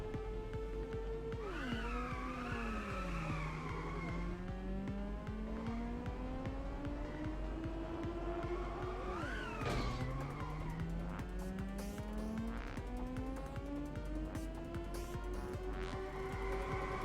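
Race cars in Inertial Drift sliding through corners, engine pitch sweeping down and climbing back up in two long drifts, with a steady tire-skid hiss under a continuous loud motor whine and no talk.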